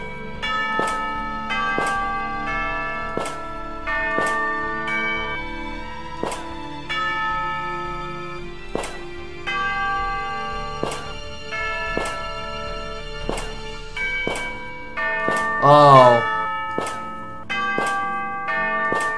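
Church bells ringing in a video game: a loud, close run of repeated metallic strikes with long ringing overtones, struck in an uneven steady rhythm, one brief sliding tone near the end, no talking.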